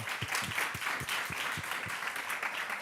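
A lunch seminar audience applauds after a talk on public sector digitalisation, a fairly soft, steady patter of many hands clapping in a room, continuing evenly throughout.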